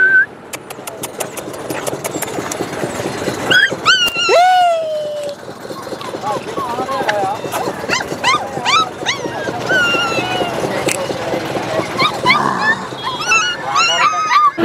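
A puppy at the Pushkar cattle fair gives repeated high whimpers and yips amid a busy outdoor crowd, with an engine running and people talking nearby.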